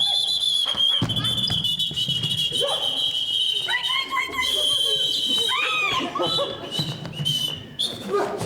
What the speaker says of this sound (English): Did you see that? I whistled.